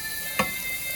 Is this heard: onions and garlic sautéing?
yes